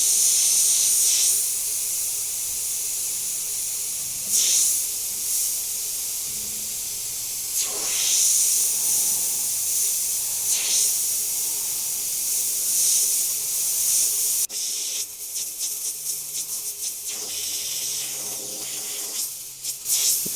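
An airbrush sprays black paint onto a black and grey skull design, a close, steady high hiss running almost continuously, broken by brief pauses and faint handling clicks, turning patchier toward the end.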